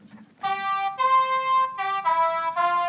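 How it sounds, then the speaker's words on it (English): A synthesized saxophone voice from a Handy Tech portable Braille display plays a short run of four or five sustained, reedy electronic notes in a simple melody, clear and close in a quiet room. "Let's hear what the saxophone sounds like."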